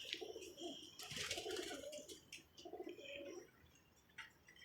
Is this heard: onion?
no